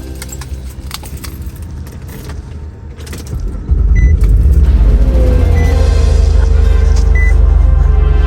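A 2002-2006 Nissan Altima engine, after camshaft position sensor work, cranks and catches, then settles into a loud, steady idle rumble, with earlier clinking and shuffling beforehand.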